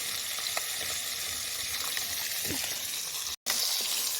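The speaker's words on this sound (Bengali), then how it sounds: "সব মাছগুলো ভেজে নিলাম।" Koi fish fry in oil in a village kitchen, giving a steady close sizzle with faint stirring sounds and one brief cut near the end.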